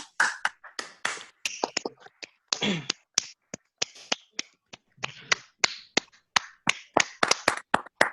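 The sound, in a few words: applause for the speakers over an online meeting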